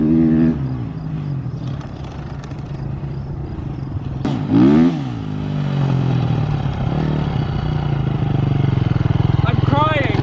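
A dirt bike engine drones and revs steadily as it rides over dirt, loud and close throughout, with a sharp rise in pitch partway through and people talking over it.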